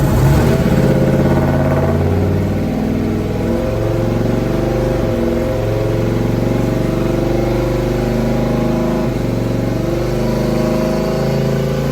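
A single-turbo race car engine pulls hard under acceleration, its loud, continuous roar climbing steadily in pitch over several seconds with brief dips at the gear changes, close to the listener with no voices.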